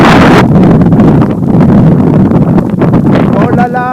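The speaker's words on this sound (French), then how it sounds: "ça commence à bien souffler bien sûr" Strong storm wind gusts roar and buffet the microphone continuously, loud and close, with a voice faintly under the rumble.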